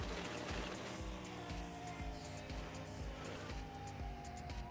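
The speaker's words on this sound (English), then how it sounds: "Listen to that engine purr." A car engine idling and running in the driving game The Long Drive, a low rhythmic pulsing rumble with steady harmonic drone, faint and continuous for a few seconds without speech.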